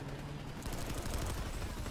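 Faint, muffled friendly automatic gunfire in Planetside 2 crackles in a steady stream of rapid shots, starting after a brief lull and continuing quietly to the end.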